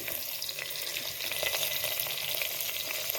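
Chopped onions, green chillies and ginger hit hot oil with toasted cumin in a pot for dum biryani, making a loud, continuous crackling sizzle close up, with no speech.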